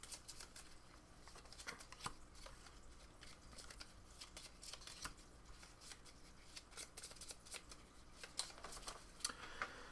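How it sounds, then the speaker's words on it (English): A large deck of board game cards for Robinson Crusoe being shuffled, giving a steady run of soft riffling and flicking rustles with sharper card snaps throughout, close and alone. "you take this great big deck of other inventions, there's a whole bunch of them, and you shuffle them up"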